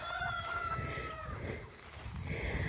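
Chickens, one rooster and six hens, cluck and chatter nearby, with the rooster's drawn-out call at the start over a busy background of bird noise.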